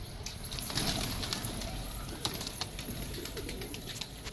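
Pigeons in a rooftop loft setup cooing softly under a steady outdoor background, with scattered chirps and faint noises spread through the stretch.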